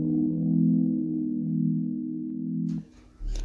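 A melody processed with a reduced sample rate and about 3% vinyl noise plays as a low, sustained, muffled tone for nearly three seconds, then drops into crackly, noisy texture near the end.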